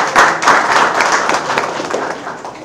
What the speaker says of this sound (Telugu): give him big claps